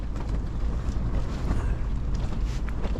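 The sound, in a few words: wind at the beach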